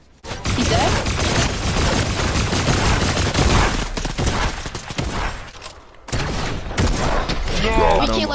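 Dense, loud gunfire in a Fortnite match, with a heavy shotgun blast among rapid overlapping shots and thuds, and players talking over the action.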